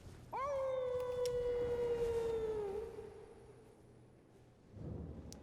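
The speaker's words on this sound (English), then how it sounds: "we heard howling when we got close to the Forlorn Hound Everjail" A hound howls near the Forlorn Hound Evergaol in the Elden Ring video game, one long, clear, mournful wail that starts abruptly, holds steady and fades out over low ambient game noise.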